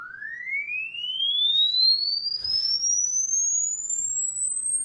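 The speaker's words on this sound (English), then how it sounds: "you can hear from the get-go that started off at a very low frequency" A pure sine-wave tone sweeps smoothly upward from a low pitch to a high, piercing one over a few seconds, loud and alone apart from faint background noise.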